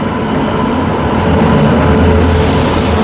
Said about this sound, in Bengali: এদিকে কোনো একটা ট্রেন ঢুকছে মনে হচ্ছে।